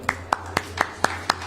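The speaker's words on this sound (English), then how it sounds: "A big round of applause" Six sharp, evenly spaced claps from a single person over a steady low hum, sounding close and fairly loud.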